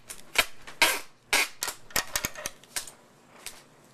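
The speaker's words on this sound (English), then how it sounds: "and then I'm going to tape it" Tape being pulled and applied to a shrink-wrapped Valentine's gift basket: a string of sharp crackling rips and snaps in irregular bursts, close and without talk.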